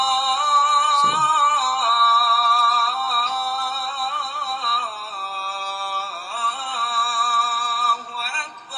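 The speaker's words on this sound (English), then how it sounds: "they have the call to prayer or the Arabic chant" A single voice chanting a long, wavering melodic Arabic Islamic call to prayer, loud and reverberant, with sustained held notes and no other sounds.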